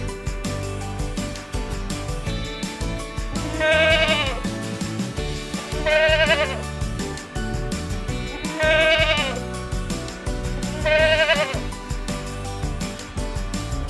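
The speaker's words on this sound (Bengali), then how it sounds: "ছয়ে ছাগল ছানা লাফিয়ে চলে" A goat kid bleats four times at regular intervals, each cry short and wavering, over a continuous backing of music.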